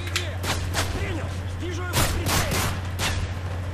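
Gunfire crackles from the video game Call of Duty Modern Warfare 3, with several sharp shots in quick bursts over a constant low hum and game noise, and a voice talking at times.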